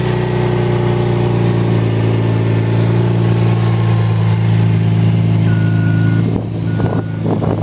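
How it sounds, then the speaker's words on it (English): A used car's engine idles steadily, a loud close low hum with even rhythm, accompanied by a faint intermittent beeping near the end. "As you can see, this motor is running real good."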